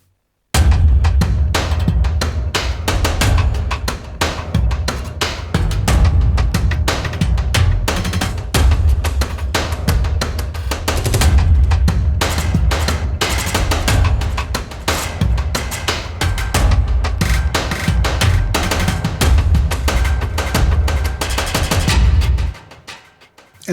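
Two Loop Designer instances from the Uncharted 88 library play together as a dense, intricate groove with a heavy low end and busy percussive detail, running steadily and loudly before cutting off near the end.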